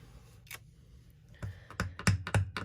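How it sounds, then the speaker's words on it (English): A rubber stamp is pressed onto paper card stock several times while making a sympathy card, giving a few soft, close taps and thumps in a quiet room with no talking. "We're going to stamp off and then just start filling in our card."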